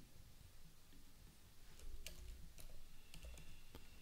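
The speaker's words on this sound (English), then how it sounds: "if I just type, let's type ChatGPT." Quiet typing on a computer keyboard, a short run of faint scattered key clicks with a few sharper taps in a calm room.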